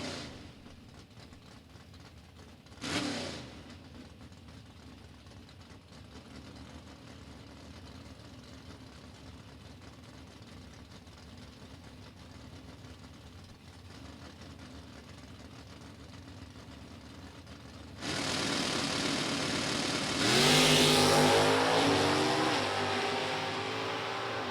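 A 1987 Camaro drag race car at an NHRA Division 3 meet at Summit Motorsports Park, with a low steady engine rumble that jumps into a loud, harsh roar as it revs and launches near the end.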